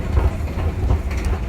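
Escalator running with a steady low mechanical rumble and faint rhythmic clicking, a continuous close machine drone with no voices.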